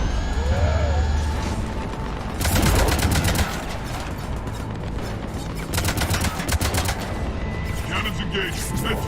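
Cannons blasting in a sci-fi space video game, with dense bursts of rapid, loud firing in two main volleys over continuous engine-like rumble and background game noise.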